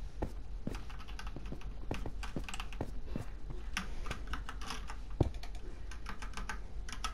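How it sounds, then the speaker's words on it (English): Steady, rapid typing on a computer keyboard, with clicky keystrokes throughout and an occasional louder key press, close by and alone. "Keyboard intensifying"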